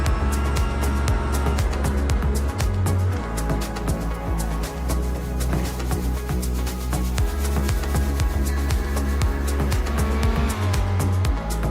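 A GTE-class race car at the Red Bull Ring heads into the final corner toward the finish, its engine revving loudly and steadily, with shifting pitch and occasional tire squeal, and with no talk over it.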